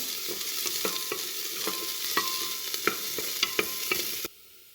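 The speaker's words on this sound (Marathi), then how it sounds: "त्यानंतर चिरलेला कांदा टाकून हे देखील तुपामध्ये थोडंसं परतून घेऊया" Chopped onion sautéing in ghee for a dal soup, a steady sizzle with a spoon scraping and clicking against the pan at irregular intervals, close-up, ending abruptly in near silence, no speech.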